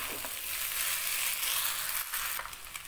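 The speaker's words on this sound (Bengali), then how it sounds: "ডিমটা দিয়েও খুব ভালো করে মিশিয়ে নিচ্ছি।" Egg chow mein with vegetables and fried egg sizzles in a pan as it is stirred, a steady close frying hiss broken by a few scraping strokes.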